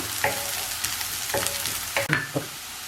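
Onions and slit green chilies sautéing in hot oil, a close, steady sizzle broken by several scraping stirs of a spoon against the pan.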